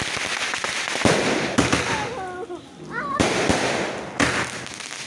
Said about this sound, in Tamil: நாங்கள் மொட்டை மாடியில் வச்சு தான் கொஞ்சம் பட்டாசு வெடிச்சுட்டு